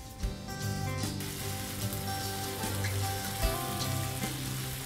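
Wine, chopped tomatoes and bell peppers sizzle steadily in a pan on a cooking show, making a moderate, continuous frying crackle with a few louder pops. Tonal kitchen background hum sits underneath, with no talking.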